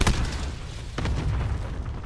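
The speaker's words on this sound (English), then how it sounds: "Cluster strike inbound." A cluster strike detonates in the video game Modern Warfare, two heavy booms about a second apart with a rumbling tail, loud and unaccompanied by speech.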